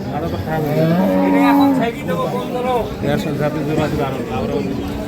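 A cow lets out a loud, drawn-out moo close by at a livestock market, with other cattle and people chattering in the background.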